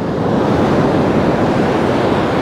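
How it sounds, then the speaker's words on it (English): Ocean waves surging and washing over a sandy beach, a steady loud roar of surf with constant wind noise throughout, no voices. "walk along the beach barefoot, have the water come crashing through your feet while you're walking across the sand"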